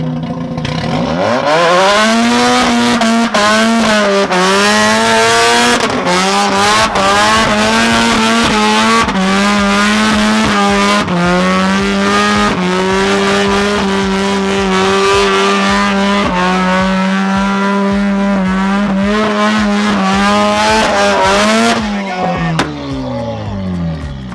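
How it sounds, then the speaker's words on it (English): A modified Mazda RX-8 roars at high revs while its tires squeal continuously through a long burnout, the engine pitch wavering before dropping off at the end. "taking that plug out has made a massive difference to burnout abilities"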